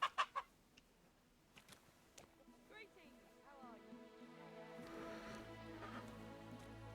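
Chicken clucking in Kingdom Come Deliverance II, short clucks heard among sharp clicks and a growing background hum, with someone speaking over it.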